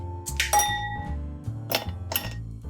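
Ice cubes dropped into a glass for a mocktail, giving several bright clinks and knocks in a few separate bursts, close up with no talking.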